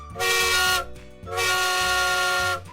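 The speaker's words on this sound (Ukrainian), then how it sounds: "Звучить гудок, наш поїзд вирушає в дорогу." Two loud, sustained blasts of a train horn, the second longer, sounding close and tonal with a rumbling engine underneath.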